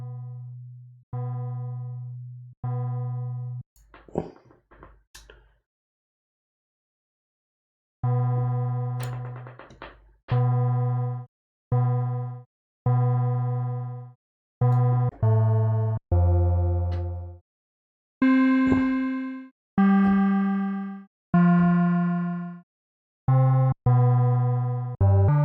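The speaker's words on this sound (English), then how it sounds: "Still trying to make my bell tones here." Synthesized bell tones from Befaco modules in VCV Rack ring out one at a time in a slow series, each with a sharp strike and a long decaying tail, with varying pitches, a short noisy burst early on and a silent gap midway.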